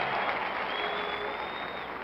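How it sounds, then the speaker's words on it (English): Arena audience at the 1970 NBA Finals Game 7, Knicks versus Lakers, applauding basketball player Dave DeBusschere: a steady, dense wash of clapping throughout, loud and continuous. "And now the audience stands and applauds Dave DeBusschere"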